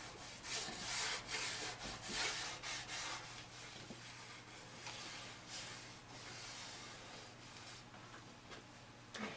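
Danish oil being rubbed by hand into the seams of a vintage wooden chest of drawers, a soft, steady scuffing and hissing friction close by, with repeated strokes and no talking.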